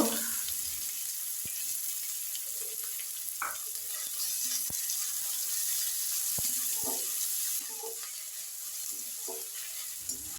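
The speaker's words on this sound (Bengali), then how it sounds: "পেঁয়াজ দিয়ে দেবো পেঁয়াজটা হালকা ভেজে নেব" Onions sizzle in hot mustard oil with a steady frying hiss, broken by occasional sharp knocks of a utensil against the pan.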